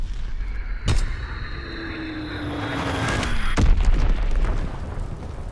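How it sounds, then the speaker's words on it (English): In Call of Duty WWII, a Fritz X bomb drop sends two sharp booming explosions about three seconds apart, with a descending aircraft whine and rumble between them. "Dropping Fritz X bomb."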